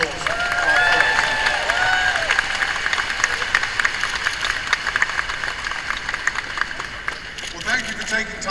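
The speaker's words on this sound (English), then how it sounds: "So please, a round of applause for our folks." An outdoor crowd at a May Day celebration claps and cheers for fire department folks, a dense burst of applause with whoops and voices, tapering off into scattered claps near the end.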